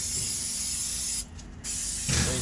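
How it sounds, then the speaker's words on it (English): Carpet glue adhesive sprays from an aerosol can inside a van in a loud, steady hiss close by, breaking off for a moment in the middle and then starting again. "Spray this bad boy down"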